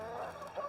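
Egg-laying hens clucking on pasture during a weekly move: a short, soft run of close, murmuring clucks with no talk.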